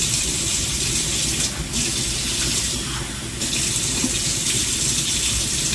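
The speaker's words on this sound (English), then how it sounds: "I'm going to add just a little bit more of water." Tap water runs steadily into a kitchen container while preparing a salad dressing, a close, loud, continuous gushing stream with slight shifts in tone and no talking.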